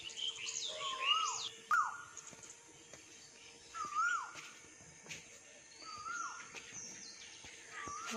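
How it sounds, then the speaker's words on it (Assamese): Small birds chirp in short, bright bursts, some louder and close, others softer, scattered across a quiet outdoor morning with a faint steady background hum. "শুনিছেনে চৰাই মাতটো ইমান ভাল লাগিছে"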